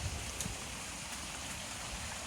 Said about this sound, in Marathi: आजच पाऊस लागलो.